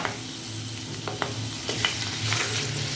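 Chopped garlic frying in plenty of hot oil for tomato pickle, a soft continuous sizzle with a few sharp clicks of a spoon stirring against the pan.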